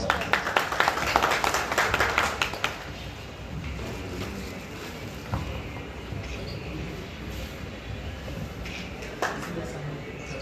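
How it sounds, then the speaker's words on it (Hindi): Audience applause welcoming a young player at a ceremony, a dense clapping burst over the first seconds that fades into steady crowd murmur and background hum. "आप सबकी भरपूर तालियों में उस्ताद आसिम आजम साहब"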